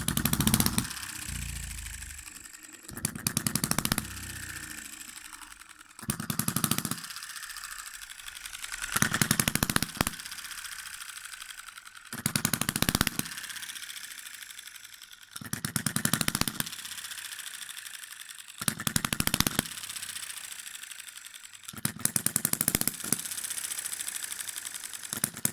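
Enjomor hit and miss model engine running warm, sharp bursts of firing every few seconds with quieter coasting between, a regular loud-soft cycle close to the microphone.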